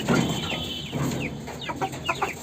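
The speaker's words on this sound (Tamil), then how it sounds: "நம்ம வெள்ளைக்கோழி பாருங்கள்" A white hen clucks in a few quick, short calls over steady outdoor noise, near and moderately loud.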